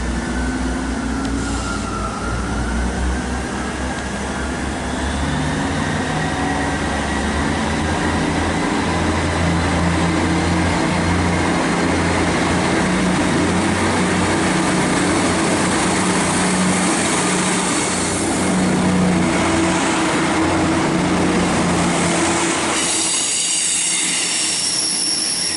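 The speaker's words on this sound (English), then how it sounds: "departing now is 158957, heading off to Portsmouth Harbour from Bristol Temple Meads on the 11:36 service." Class 158 diesel multiple unit 158957 pulls out of Bath Spa station bound for Portsmouth Harbour, its engine droning steadily while wheel flanges squeal high and continuously along the rails, growing louder near the end.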